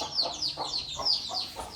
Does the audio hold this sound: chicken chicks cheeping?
yes